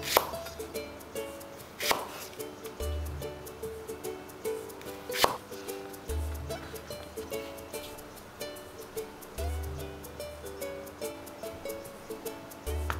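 A knife chops vegetables on a cutting board for a salmon miso soup, with sharp regular knocks recurring through a quiet kitchen and a couple of louder clacks, no speech.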